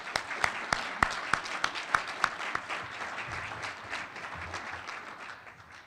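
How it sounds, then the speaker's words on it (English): Rotary luncheon audience applauding students, a dense crowd ovation with a few sharp close claps standing out early, then settling into a steady wash of clapping that slowly fades. "let's recognize our students, Rotarians, with a round of applause for their efforts this year"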